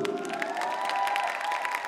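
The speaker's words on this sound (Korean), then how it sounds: "누가 가장 잘했는지 박수로서 인정하겠습니다." Audience at a Korean science-creativity concert performance claps together, a steady wash of applause with light cheering carrying on throughout, moderately loud and unbroken.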